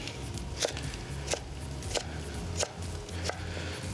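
A knife cubes vegetable batonettes on a cutting board, crisp evenly spaced chops landing about every two-thirds of a second, close up and alone without speech.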